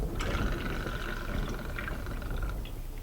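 Blue Curacao and tequila poured over ice, a short steady stream of liquid trickling into a glass at close range.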